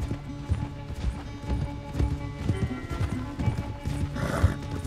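Horse galloping during a race in Red Dead Redemption 2, a steady rhythmic run of hoofbeats with an occasional whinny, heard close and continuous alongside game sounds.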